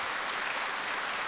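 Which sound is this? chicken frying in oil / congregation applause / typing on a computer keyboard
congregation applause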